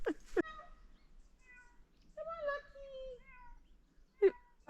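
Kittens meowing on a homestead, a few high plaintive cries spread out with gaps between them, one sharper call near the end, heard close amid quiet outdoor background.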